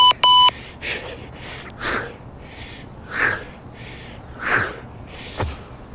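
A workout interval timer gives two short beeps and then a longer sustained beep at the start, followed by heavy rhythmic breathing and exertion sounds from someone doing a kettlebell workout.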